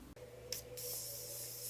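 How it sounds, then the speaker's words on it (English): Two short, soft hisses of Morphe setting spray misted onto a face, the second one longer, close but faint over a low background hum. "Now I'm gonna go ahead and set the face with the Morphe setting spray"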